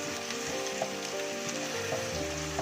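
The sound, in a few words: spices and masala sautéing in oil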